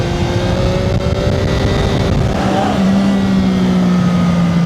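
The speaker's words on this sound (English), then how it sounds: "this was my first wheelie on 1605 NK" A CFMOTO 675NK motorcycle pulling a wheelie: its engine roars loudly and continuously close up, the pitch shifting and climbing partway through, with wind rush underneath.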